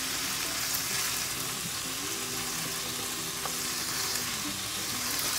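Tomatoes sizzle and fry with shredded cabbage in a pan, a steady dense crackle filling the background with faint stirring, no voices over it.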